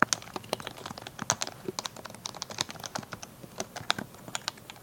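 Rapid, steady typing on a compact Happy Hacking Type-S keyboard with quiet, muted keystrokes, close up and alone in a steady irregular patter of soft clacks.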